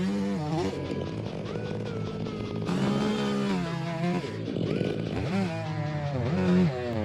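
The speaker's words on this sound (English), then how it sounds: "started sawing each large branch" A chainsaw drones and revs continuously high up in a tree, its engine pitch rising and falling as it cuts large branches, loud and close.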